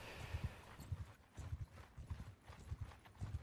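Hooves of a horse gallop in a video game during a chase from mountain bandits, a rapid, rhythmic clip-clop in repeating bursts of thuds, fairly close and steady throughout the short stretch.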